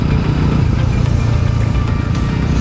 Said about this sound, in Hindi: क्योंकि स्पोर्ट्स बाइक है, 200 सीसी का इंजन है इसमें, तो काफ़ी ज़्यादा पावर मिल जाती है।